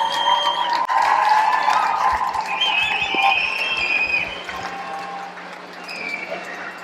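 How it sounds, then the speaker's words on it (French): Applause from a crowd at the JAIB Wemotaci 2017 gathering, steady clapping with some cheering, fading slightly toward the end, with voices mixed in. "Tout le monde, s'il vous plaît, applaudissez Jason Petitquay"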